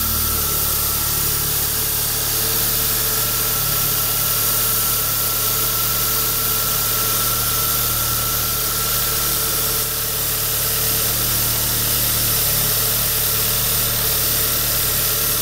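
A 2012 Hyundai Accent engine idles steadily and loudly nearby, a continuous low rumbling hum with faint vibration and no voices.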